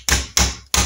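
Hammer shaft striking the con rod cap of a Norton Commando engine, three sharp metallic taps in even rhythm, close and clear.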